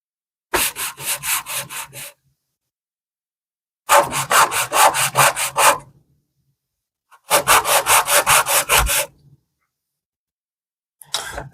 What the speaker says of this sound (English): If there's any of that burr left, continue to sand until that's gone.